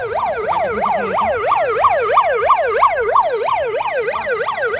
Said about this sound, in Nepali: एम्बुलेन्स आइरहेको छ।